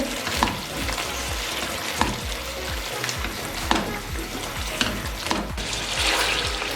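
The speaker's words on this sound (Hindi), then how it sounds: "अब तेज आंच करेंगे और इसको बहुत अच्छे से 8 से 10 मिनट के लिए भून लेंगे।" Mutton for korma frying and being stirred over high heat in a pot, a steady loud sizzle with regular scraping stirs and clinks of the spoon, no voices.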